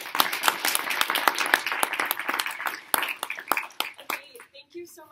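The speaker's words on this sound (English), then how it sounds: "let's give Nathan another round of applause." A modest audience claps for a speaker at the end of a university marketing seminar, sharp distinct hand claps in a fairly sparse, uneven rhythm that thins out, giving way to a voice at the close.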